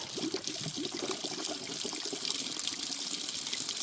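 Water poured out of plastic water jugs that were shot during a .357 Magnum ballistic test, a steady splashing, trickling gush running continuously without pause.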